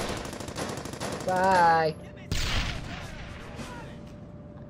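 A grenade and gunfire in the Battlefield video game on PS3 sound together: a dense burst of rapid shots and a loud boom, followed by a sharp crack and fading rumble, with brief speech.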